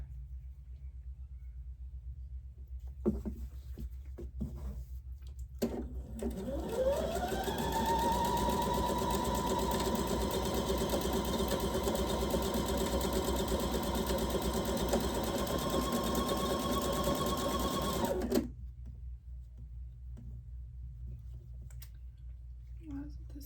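Sewing machine stitching fabric, starting up after a few clicks and running in one loud, steady whirring burst of about eleven seconds before stopping, with quiet handling noise around it.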